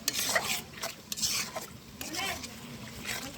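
A roast spice mixture with ginger paste is stirred in a pan, producing soft, repeated scraping and rubbing strokes with light utensil contact, close and fairly quiet.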